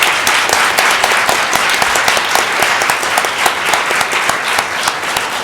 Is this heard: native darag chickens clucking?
no